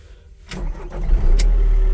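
A Linde H35D diesel forklift engine cranks briefly, then catches and settles into a deep, close rumble that builds in loudness over two seconds. No one speaks.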